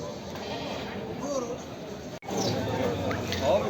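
Sheep, a cross of local sheep and Kangal breeds, bleat at a livestock market in Kadirli, with a few short calls heard amid people talking and general market bustle.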